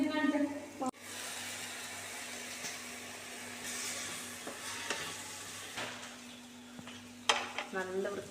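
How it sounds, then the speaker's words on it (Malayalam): Onion-type ingredients sauté with salt in a pan for a pomfret dish: a steady close sizzle with scraping stirs and occasional utensil clinks, and a brief voice near the start. "ഉപ്പിട്ടിട്ട് വഴറ്റിയെടുക്കുന്നുണ്ട്"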